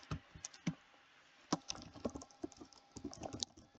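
A computer keyboard clacks as a card number is entered, light irregular keystrokes in small clusters with brief pauses, close and quiet, with no one speaking.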